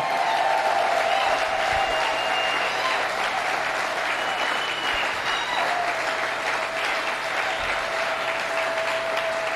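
A church congregation applauds loudly and steadily at an anniversary service, a dense, sustained wash of clapping with crowd murmur and a sustained tone running beneath it.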